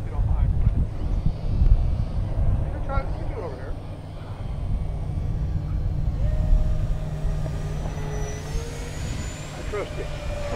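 An E-flite Twin Otter twin-engine RC model airplane flies slowly past at an RC field, its engines whining steadily under constant wind rumble, with people talking nearby.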